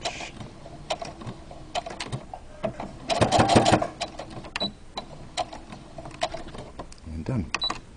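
Sewing machine back stitching the end of a seam on a pleated fabric face mask: a steady mechanical whir of stitching that surges louder in the middle, with scattered clicks and handling noises, close and alone.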